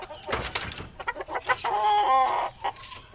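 Gamefowl breeding stock chickens cluck and chatter close by, with several short calls and a longer, louder clucking run near the middle, no talk over them.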